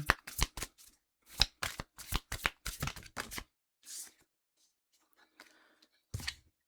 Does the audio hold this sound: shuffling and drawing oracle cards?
yes